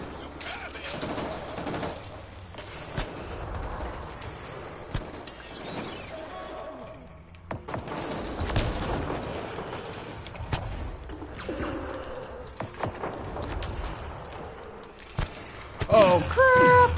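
Gunfire in the sci-fi shooter Mass Effect Andromeda during live play, with bursts and sharp shots spread through a busy mix of game effects and a player's voice talking over the action.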